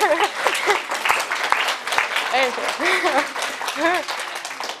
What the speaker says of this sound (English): Now you can all clap.